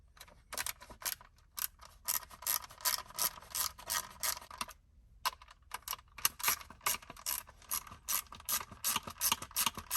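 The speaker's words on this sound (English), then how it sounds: "You can use the same screwdriver, the torque 20 screwdriver, to remove it." A ratcheting Torx T20 screwdriver works screws out of interior trim in a Tesla Model Y or Model 3, clicking in quick, steady ratchet bursts with one short pause, close and fairly quiet with no speech.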